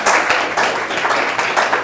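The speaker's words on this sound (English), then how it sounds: "let's give a round of applause for Nathan" Applause at an Elite Private Tutors awards ceremony as a presenter is welcomed to the stage: a room full of people clapping steadily, close and fairly loud, brief and unbroken.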